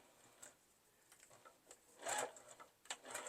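A sewing machine back stitches the end of a seam on a fabric iPad case, giving quiet, fast mechanical whirring in short bursts with brief pauses. The loudest run comes near the middle.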